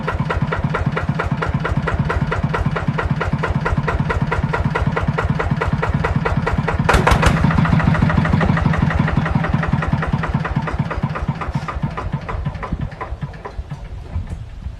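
A stock TF160LE engine idles steadily with a rapid, even putter, loud and close, briefly revving a little midway before settling back.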